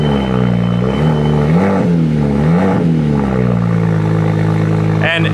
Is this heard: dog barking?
no